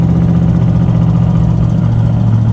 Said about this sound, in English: There it is, Buick is back up and running